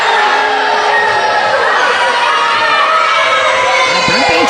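A small wrestling crowd at a Smash Wrestling show in Barry's Bay, loud continuous cheering and shouting that fills the space, with children's voices mixed into the roar.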